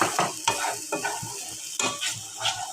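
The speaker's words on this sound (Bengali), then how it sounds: "ভালো করে আমি কষিয়ে নিব মশলাটাকে।" Spice masala frying in a pan while being stirred and pressed, with repeated scraping strokes over a steady close sizzle; no talking.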